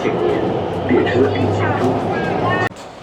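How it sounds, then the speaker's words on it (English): A Chengdu subway train rumbles and whines as it pulls away, a steady loud drone with people talking over it, ending in an abrupt drop. "Train is going"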